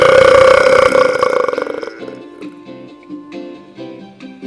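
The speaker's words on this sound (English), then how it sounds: "There's your snort and belch." A loud, close burp rumbles for about two seconds, then fades into a rougher, shorter snorting sound, with no words spoken.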